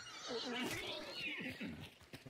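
A horse in a video game gives a short, quiet whinny with a wavering pitch that trails off after about two seconds.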